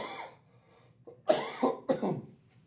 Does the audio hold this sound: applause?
no